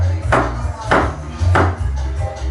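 A knife slices through St. George's mushrooms on a board, making three or four crisp, evenly spaced cuts close by over a low steady hum.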